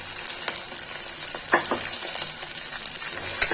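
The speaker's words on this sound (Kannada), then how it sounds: "ಒಂದು ಸ್ವಲ್ಪ ಎಣ್ಣೆ ಒಳಗೆ ಫ್ರೈ ಆಗಲಿ." Broccoli frying in a little oil in a pan: a steady bright sizzle with soft crackles and a few louder spatters as it is stirred, close and continuous with no voices.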